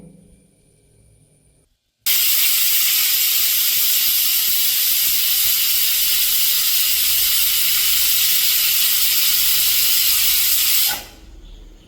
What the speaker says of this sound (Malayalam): ഞാൻ ടോട്ടൽ 7 വിസിലാണ് കേട്ടോ ഇട്ടിട്ടുള്ളത്